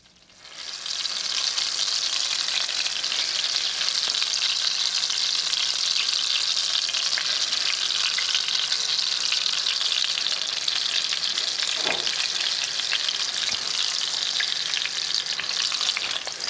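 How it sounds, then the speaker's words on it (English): Lamb shanks sear in a mix of hot oil and butter, a dense, even sizzle holding steady and loud throughout, with a faint knock near the end. "The lamb is seared in a combination of hot oil and butter."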